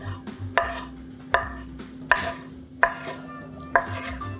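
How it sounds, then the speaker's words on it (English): Knife slicing a rolled tamagoyaki egg omelet on a board, five crisp evenly spaced cuts, each a sharp close tap against a low steady background hum, no speech. "So I'm going to make some little cuts."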